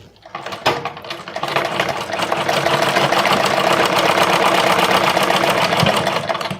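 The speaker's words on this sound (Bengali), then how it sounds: "তো আমি এইখান থেকে একটা সেলাই দিয়ে নিচ্ছি।" An electric sewing machine stitches through fabric in one continuous run. Its needle chatters rapidly and evenly, loud and close, starting briefly and then holding a steady pace for several seconds before easing off.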